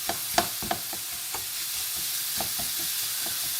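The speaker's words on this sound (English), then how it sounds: "So I'm just going to very quickly, with a bit of oil, brown this mince off" Mince browning in oil in a pan makes a continuous sizzling hiss, broken by a few sharp knocks and scrapes of stirring early on, with no voices.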